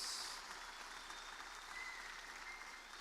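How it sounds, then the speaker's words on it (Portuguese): Quiet, distant applause from a church congregation during a celebration service, a soft continuous patter of clapping that fades slightly toward the end. "Você pode dar uma salva de palmas por essa palavra?"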